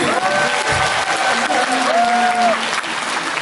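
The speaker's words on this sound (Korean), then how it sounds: "축하 박수 한번 보내주세요." Congratulatory applause from a studio audience, a steady wash of clapping with brief vocal tones rising over it.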